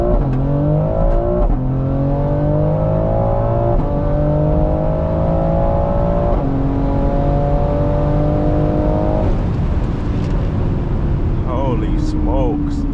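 A Stage 2 BMW X3M CS launches hard and pulls through several gears, its engine note climbing steeply in stepped rises with brief dips at each shift, loud and close from inside, with a voice speaking over it.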